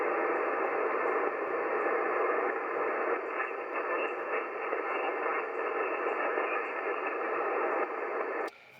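Amateur radio reception during a Parks on the Air session on a LEFS 4010 transceiver, with an off-frequency station buried in steady band noise and static; a continuous hiss holds throughout with no clear voice, then cuts off abruptly near the end.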